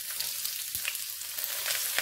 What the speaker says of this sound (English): I just add in a little vegetable oil, just a little. Add in chopped onions.